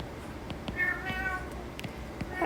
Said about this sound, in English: Sorry, my cat is meowing really loud.